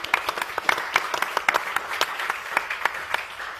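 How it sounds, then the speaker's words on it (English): An audience applauds steadily, dense overlapping hand claps filling the room at moderate loudness with no voices over them. "Another round of applause, please."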